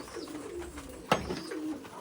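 Pigeons coo softly in a coop in low, rolling murmurs, with a single sharp click partway through; nearby and moderately quiet.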